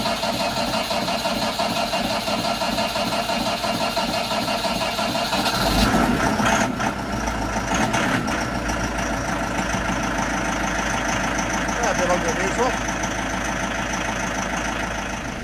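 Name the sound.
Massey Ferguson 698T tractor diesel engine idling after starting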